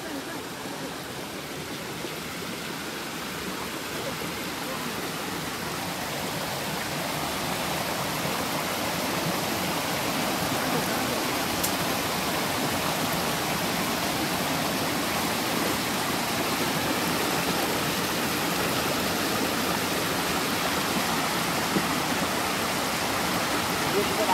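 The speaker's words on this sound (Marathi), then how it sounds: "झोत आहेत पाण्याचा" A stream's currents rush in a steady, dense wash that fills the whole stretch without a break, heard close by during crab hunting along the water.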